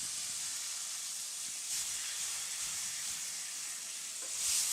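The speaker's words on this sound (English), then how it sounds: "Then I'm going to drain this excess oil" Hot oil draining from a pan after browning steak, heard as a steady, even hiss of sizzling fat that runs throughout at low volume, with a slight swell near the end.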